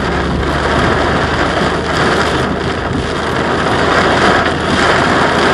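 Heavy rain pours down steadily in Yerevan during a thunderstorm, a loud, dense, continuous roar of drops on surfaces with low rumbling thunder underneath and no voices.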